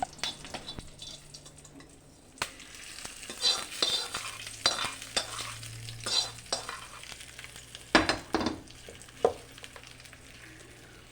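A spoon stirs ridge gourd peel chutney in a pan, scraping in repeated uneven strokes with a soft sizzle underneath from a tempering of oil, mustard seeds, cumin, asafoetida and curry leaves.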